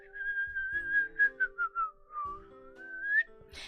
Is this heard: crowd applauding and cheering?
no